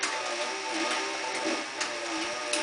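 A stitching machine sews through a leather holster with a steady, fast mechanical whir and faint rhythmic ticking, close and continuous with no voices.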